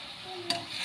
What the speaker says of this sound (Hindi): दोस्तों इसको अच्छे से हम मिक्स कर लेते हैं